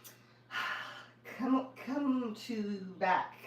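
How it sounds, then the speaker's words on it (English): A soft, airy breath drawn in deeply, followed by a calm voice speaking. "Please join in and take in a deep breath"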